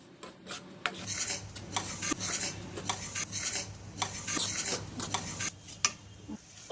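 Dry fruit powder and grated coconut are stirred together in a bowl for ajwain laddu, giving close, steady scraping and rasping strokes with occasional light clinks of a spoon against the bowl, no voices.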